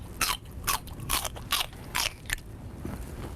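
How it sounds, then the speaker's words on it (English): Loud chewing while eating with the mouth open: crunchy bites and smacking mastication repeated in a steady rhythm, very close and alone, with no talk. "People who chew loudly or eat with their mouths open."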